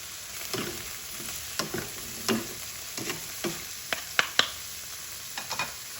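Shrimp with tomatoes sautéing in a pan, soft sizzling under a run of sharp spatula scrapes and taps at an uneven rhythm, close up and fairly quiet, no voices.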